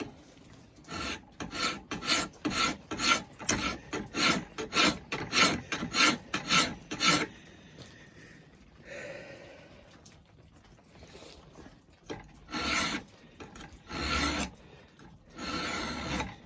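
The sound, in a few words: file filing down a forged steel knife blade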